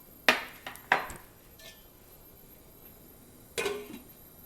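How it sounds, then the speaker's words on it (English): A metal lid is set onto a pot of boiling Malvani crab curry made with live blue crabs, giving a few sharp clattering clinks close by, then a quiet pause and another rattling clank. "So now I'm going to just place a lid on it and bring it to a quick boil."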